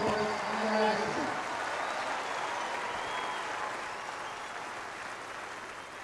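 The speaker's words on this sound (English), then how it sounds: "How about a great round of applause for the Group Break champions, Pete Sampras and Agassi." Spectators at the 1995 Indian Wells tennis final applaud the champions, a broad, even clapping that fades gradually, with a few brief tonal sounds near the start.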